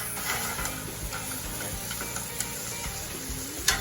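Onions cooking with balsamic in a hot pan, a steady soft sizzle and crackle with occasional stirring clicks and scrapes of a utensil, close and even throughout.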